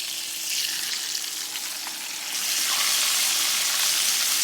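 Catfish fillets fry in a pan with a steady, close sizzle that swells louder partway through as the pieces are flipped over; no voices.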